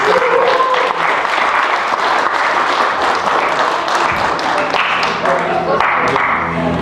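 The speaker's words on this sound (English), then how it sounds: "Give all three of them another round of applause." Sustained audience applause at a Junior Optimist Club convention, loud and dense throughout with steady clapping from a large crowd, filling the whole stretch without pause.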